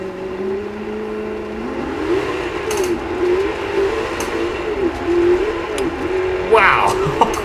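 A Plymouth Hemi Cuda engine in Forza Horizon 2 revs and drones steadily, pitch rising and dipping as the car pulls away from sand, with someone talking over it.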